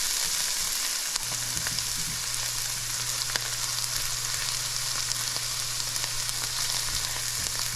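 Hot peppers and onions fry in oil for shrimp, giving a steady, dense sizzle throughout, with a low steady hum underneath and no talking.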